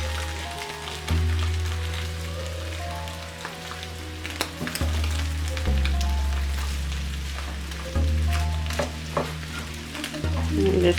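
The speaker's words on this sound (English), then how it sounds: "Just cooking the scrambled eggs is all you're doing." Scrambled eggs with potato and chorizo fry steadily in a pan, sizzling throughout. Repeated scraping and stirring strokes punctuate the sizzle, and a low hum runs underneath the whole time.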